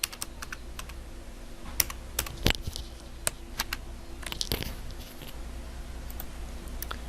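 Someone types on a computer keyboard in a quiet room, a close, irregular patter of light keystrokes with occasional sharper clacks and short pauses, no voices.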